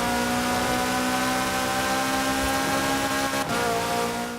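The engine of a 2017 Hoonigan Gymkhana 10 Ford Fiesta ST in Forza Horizon 4 drones loud and constant at high revs, held near the limiter with a slight dip and shift near the end.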